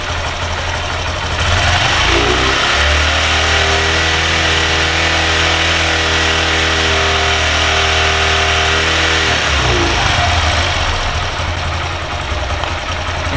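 A motorcycle engine under a charging-system test revs up from a steady idle, holds a high, droning rev for several seconds, then drops back to idle; loud and close, with no talk.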